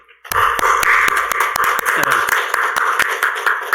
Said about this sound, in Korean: 이 시간 격려의 박수 좀 부탁합니다